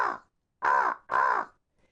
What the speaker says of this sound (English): Just alighting in the top of a tall tree was Blacky the Crow